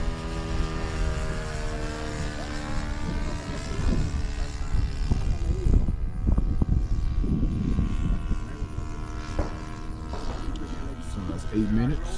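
Radio-controlled model airplane droning overhead at a flying field, its steady propeller whine shifting in pitch as it circles, with people talking nearby.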